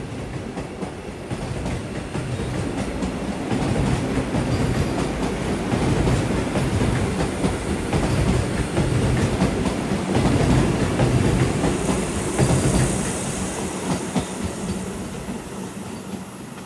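A passenger train travelling toward Walayar railway station, steady rumbling wheels with clickety-clack rhythm and occasional squealing, heard from aboard at moderate loudness with no talk.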